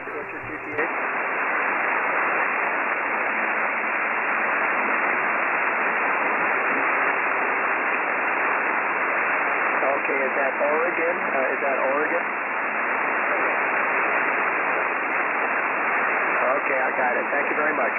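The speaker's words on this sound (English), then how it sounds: "audio you're hearing is the recording audio on the 705" Received audio from an Icom 705 ham radio transceiver running FT8 at a Field Day station, a continuous band-limited hiss of static and noise with faint warbling tones partway through.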